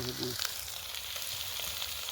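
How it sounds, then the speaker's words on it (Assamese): Steady sizzling of duck meat frying in a hot pan, a continuous crackle with a brief low hum at the start. "হাঁহৰ মাংস বৰ্তমান ভাজি আছোঁ"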